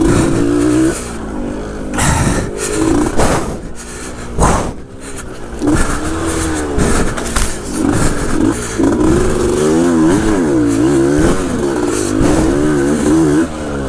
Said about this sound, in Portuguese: O que é que essa moto fez agora?